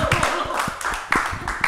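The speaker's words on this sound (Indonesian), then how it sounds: "Tepuk tangan buat bule." Audience at an Indonesian talk show gives a short round of applause, scattered claps mixed with lively overlapping chatter and laughter, fairly loud and close throughout.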